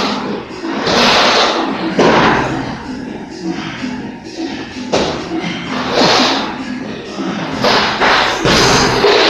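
Fists strike a punching bag during a boxing workout, a series of loud, close, heavy thuds at an uneven pace, with voices heard between the blows.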